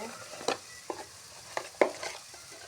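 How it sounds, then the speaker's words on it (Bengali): Mashed taro (maan kochu) stirred in a pan, a handful of short, separate scraping strokes against the metal over a faint sizzle. "হালকা করে নেড়ে নিচ্ছি একদম সুন্দর করে"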